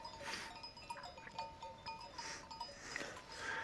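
Flock of sheep in a green pasture, brief bleats and light bell clinks against a constant open-air hum, fairly distant.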